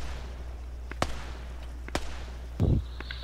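Gunfire in the military shooter ArmA 3 during a co-op match: two sharp, separate reports about a second apart, then a heavier, fuller blast, all set against a low steady background rumble.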